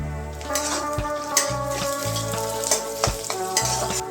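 Onion, green chilli and capsicum fry in a hot pan, giving a loud, continuous sizzle with stirring scrapes, set over steady tonal background music.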